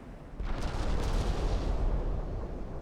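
Warship guns fire high-explosive shells in the naval battle game Ultimate Admiral Dreadnoughts: one deep, loud boom swells into a sustained rumbling roar that carries through to the end.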